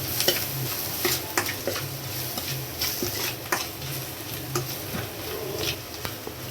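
Spices being stirred in a frying pan, with turmeric, coriander and ground chilli powder in hot oil, giving a continuous sizzle broken by repeated scraping and tapping strokes of the spoon against the pan, no voices.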